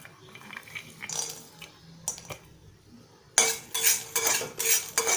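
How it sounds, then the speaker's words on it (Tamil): Whole spices (cinnamon, cloves, cardamom) and gram sautéing in a hot kadai for egg gravy: scattered metal spatula scrapes and clinks, then a burst of louder, dense sizzling and stirring up close. "இதை நல்லா வதக்கிக்கலாம்"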